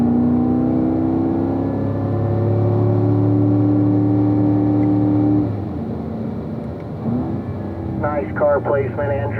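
Race car lapping a track during a lead-follow driving session, a loud steady engine drone with sustained harmonic tones that drops in pitch and intensity midway, followed by a voice speaking briefly near the end.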